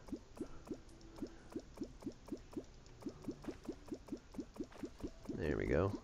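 Water poured from a bucket into a small U-shaped pit in the Terraria video game: a quick series of regular plopping drips, then a brief swirling rush of liquid as the pit fills.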